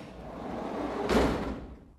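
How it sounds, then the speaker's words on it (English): A new Amazon custom delivery van's sliding door opened by key fob, a short motorized slide building to a loud, sharp clunk as it locks open, then fading, with no talk. "And the door slides open."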